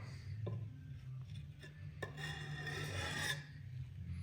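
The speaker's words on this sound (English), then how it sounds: "You're just working that burr back and forward till it comes off." A burr is honed off the edge of a slick on a Tormek jig with soft, close, steady rasping strokes at low volume, worked back and forth over a low background hum.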